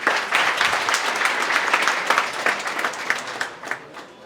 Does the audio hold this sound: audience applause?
yes